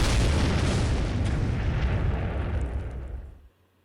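A bomb explosion sound effect booms loudly and rumbles out over about three seconds, then cuts off abruptly to near silence.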